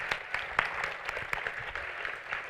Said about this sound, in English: Everybody please give Andrew a huge round of applause for writing this for us